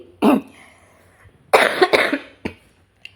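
Several sharp, close coughs in quick bursts, a single one first, then a cluster of three or four, separated by quiet pauses.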